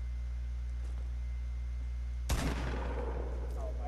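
Video game gunfire erupts midway as a single sharp, loud burst with a ringing tail, following a stretch of low steady hum and faint background noise.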